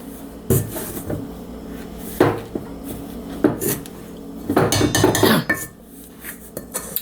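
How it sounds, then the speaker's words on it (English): A small potato masher works biscuit dough made with cassava flour in a bowl, giving repeated dull knocks and clinks against the dish in irregular bursts, close and fairly loud, with no talking. "I'm gonna take the little potato masher and we're gonna mash this up."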